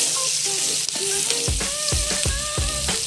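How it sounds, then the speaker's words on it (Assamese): Onions frying in a pan, a loud, close crackling sizzle with repeated scraping strokes of a spatula as they are stirred. "পিঁয়াজখিনি অকণমান ভাজি কিনে"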